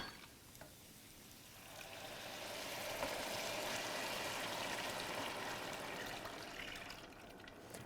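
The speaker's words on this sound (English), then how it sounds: "So I'm just going to add a little water to this." Water is poured steadily into a pot while making mussel pilaf, a continuous trickling stream that swells to a fuller gush midway before easing off, close and without talk.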